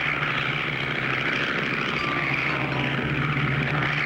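Propeller airplane droning steadily in a cartoon while flying low over canals, a continuous engine hum with a rough low buzz holding level and loud throughout, no voices.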